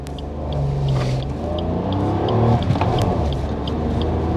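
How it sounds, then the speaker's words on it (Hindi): A 2021 Maruti Celerio with a manual gearbox accelerates hard from a standstill toward 100 km/h, its engine droning steadily and rising in pitch through the gears amid continuous road and cabin noise, with no voices over it. "देखते हैं कि हमारा जो मैनुअल वर्जन है ये 0 से लेके 100 तक कितनी देर में जाता है"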